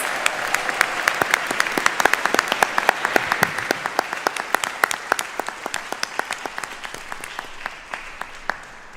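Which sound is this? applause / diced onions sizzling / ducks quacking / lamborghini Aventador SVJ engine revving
applause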